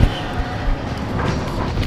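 A freight train rolls through a rail yard with a steady low rumble and rattling of wagons, close and fairly loud, no talk.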